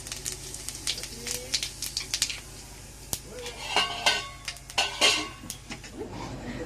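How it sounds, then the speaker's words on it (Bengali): Whole cumin and whole garam masala dropped into hot oil for tempering, giving a soft sizzle mixed with clinks of metal utensils against a pan, while someone talks intermittently. "তেলটা গরম হয়ে গেছে, এবার গোটা গোটা জিরে আর গোটা গরম মশলা এটা ফোড়ন দিয়ে দেবো।"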